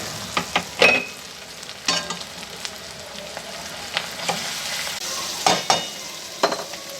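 Ginger, garlic and coriander stems sautéing in oil for chicken curry, a constant close sizzle punctuated by irregular spoon scrapes and taps against the pan, no voices.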